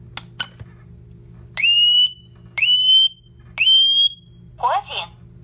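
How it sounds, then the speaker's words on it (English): Hochiki heat detector sounding its test alarm after a single button press: three loud, shrill electronic beeps about a second apart, followed by a short warbling chirp, over a quiet room hum. "All you have to do is push it, and it will sound a test alarm."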